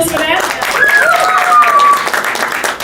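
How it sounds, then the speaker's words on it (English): A press-conference audience breaks into a dense round of applause, loud and close, with clapping running steadily under a voice talking over it. "Yes, a big round of applause for that."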